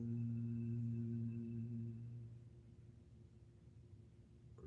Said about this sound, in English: The Om will sound like this.